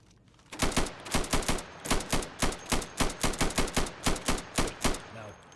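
Rapid, steady bursts of gunfire at targets behind plywood during Insurgency weapons training, loud evenly paced shots in quick succession about three or four per second, with no talking.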